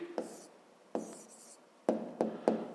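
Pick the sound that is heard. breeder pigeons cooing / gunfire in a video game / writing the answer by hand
writing the answer by hand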